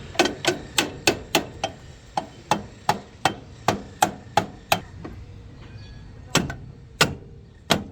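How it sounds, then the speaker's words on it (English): Sharp metallic hammer blows strike a motor mount bracket on a K-Series engine in a quick, even rhythm, pause for a moment, then resume with a few slower hits, close by. "I'm gonna just get the hammer and see what it does."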